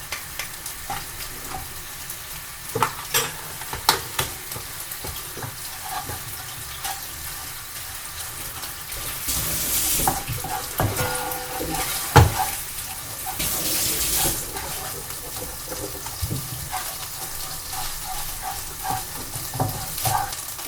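A heaped tablespoon of Massaman curry paste fries in coconut cream in a pan with no oil, giving a steady close sizzle with spoon scrapes and clicks that swell into louder hissing bursts midway.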